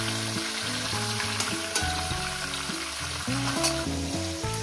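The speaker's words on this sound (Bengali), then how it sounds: "5 টুকরো করে করে দুবার আমি ভেজে নেব।" Five rohu fish heads fry in hot oil in a pan, a continuous crackling sizzle with occasional sharper pops, overlaid by a steady tonal melody.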